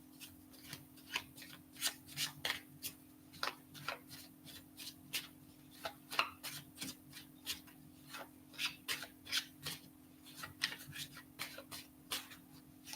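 Tarot cards being shuffled by hand up close, a steady run of quick papery riffles and snaps repeating in rhythm over a low constant hum.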